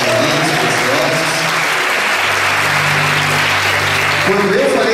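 A church congregation applauds for Jesus, a loud dense wash of clapping filling the room, with voices audible through it.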